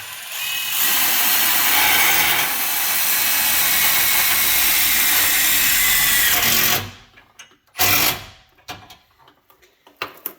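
Impact driver running self-tapping screws into the underside of a Ford Bronco frame during trailer wiring work: a loud, sustained buzzing whir for about seven seconds, then stops, followed by a couple of short bursts.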